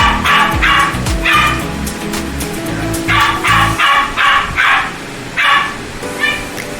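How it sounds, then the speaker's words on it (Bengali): Bath time at home with a German Shepherd and a Husky puppy: a dog barks and yips loudly in quick repeated bursts, close by, with brief gaps between volleys. "আমি জানি না আপনারা শুনতে পাচ্ছেন কিনা, আমার কুকুরে চিল্লাচ্ছে।"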